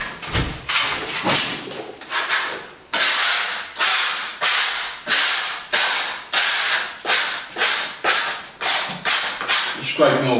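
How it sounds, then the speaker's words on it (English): Sand is scraped off paintwork during plaster repair of electric wall chases. About a dozen rasping scrapes come in a regular rhythm, each one sharp at the start and then tapering, loud and close. "Just scraping all the sand off the paintwork."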